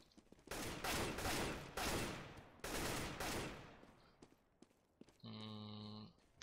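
Gunfire in a first-person shooter video game in headshot-only mode, several loud bursts of rapid shots separated by short pauses, followed by a steady electronic tone.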